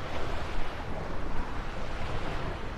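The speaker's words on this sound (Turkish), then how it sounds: "Yine rüzgar felaket." Strong, steady wind roaring and buffeting, a dense rushing noise with no pauses, loud and close.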